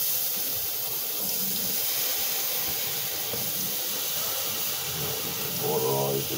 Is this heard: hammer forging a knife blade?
no